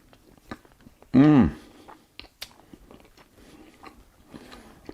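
A close, loud crunchy bite into a scone spread with homemade cultured butter is followed by quieter chewing, with small mouth sounds scattered across the rest.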